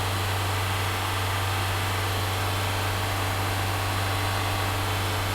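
A Honda Element engine with a low, fluctuating idle runs steadily up close, a constant mid-pitched hum with a strong low drone and broadband hiss throughout, no voices.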